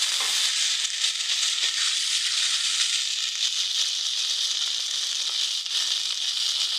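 Spices sizzle and fry steadily in a pan after a splash of water is added, while preparing a Bengali katla fish curry; a continuous, close, even hiss with a faint crackle throughout, no voices.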